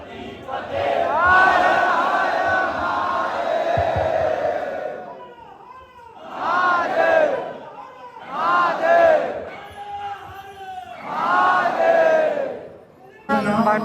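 A crowd at a Hanuman temple bhandara chants and shouts in loud, rising waves, with long sustained calls followed by several shorter bursts and brief lulls between them.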